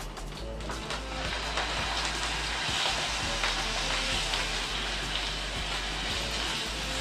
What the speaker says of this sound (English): I'm hearing this sizzling, which means it's totally ready.